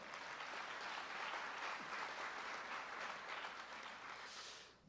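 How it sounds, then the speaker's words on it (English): Applause from the audience at a high school athletic signing ceremony, a steady wash of clapping held at an even level for several seconds before dropping away at the end. "So give those 2 guys a round of applause."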